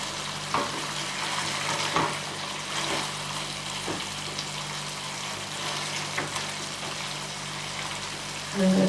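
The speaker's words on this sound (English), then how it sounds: "I'm just going to stir those through" Potatoes for a potato curry stirred in a hot pan, a steady close sizzle and frying crackle with soft scraping strokes of the spoon running throughout.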